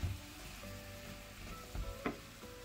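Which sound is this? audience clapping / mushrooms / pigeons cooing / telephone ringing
mushrooms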